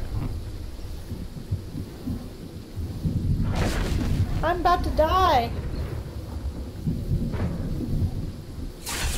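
The storm in the video game Fortnite brings a continuous low rumble of thunder and rain, louder midway, while a person speaks briefly over it.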